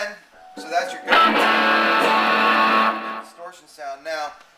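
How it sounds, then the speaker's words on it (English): An electric guitar plays through a distortion pedal, giving a sustained, gritty, heavily saturated chord that rings for about two seconds. Someone talks briefly before and after it. "So I add a distortion on top of that."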